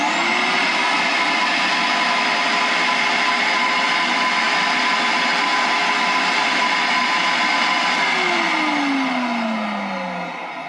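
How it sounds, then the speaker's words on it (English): A vinyl record cleaning machine's vacuum draws cleaning liquid out of the record grooves, a loud, steady whine that runs throughout and winds down in pitch near the end. "And vacuum out the grooves."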